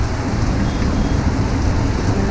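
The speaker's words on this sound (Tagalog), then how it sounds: "So ayan, ang lakas ng ulan." Steady, heavy rain pours down in a dense, unbroken hiss, loud and close, with no talking.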